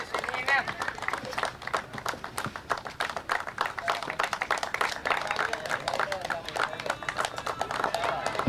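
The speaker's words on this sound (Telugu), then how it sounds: "క్లాప్స్ కొట్టాలి మీరందరూ" An audience claps at a cricket tournament award ceremony, a dense, continuous patter of many hands that stays steady throughout, with voices mixed in.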